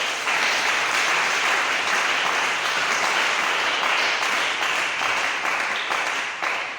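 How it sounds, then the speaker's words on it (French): A church congregation applauds loudly and steadily in a dense, sustained burst of clapping that fills the room from start to finish, with no single voice standing out. "Gloire à Dieu, nous acclamons très fort."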